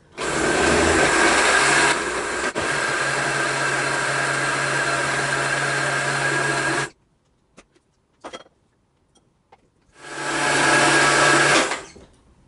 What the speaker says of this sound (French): je vais bien laisser mixer pendant un bon long moment